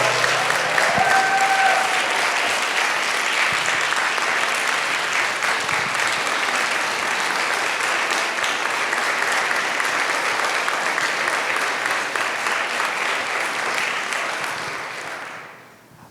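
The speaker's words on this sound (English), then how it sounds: "if y'all would please help me to give a big round of applause to them" Sustained applause from a large crowd at an alumni reunion gala fills the room, dense and steady for many seconds before fading away at the end.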